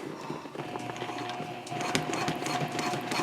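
A sewing machine runs a long basting stitch along the edge of a messenger handbag, a steady fast mechanical rattle and whir that grows a bit louder partway through.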